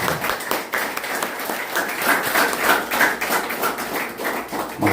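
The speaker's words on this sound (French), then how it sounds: "comme Olène ne mérite pas un applaudissement si faible" An audience at a municipal library inauguration ceremony in Anse-à-Veau claps in a steady, fairly loud wash of applause that lasts throughout.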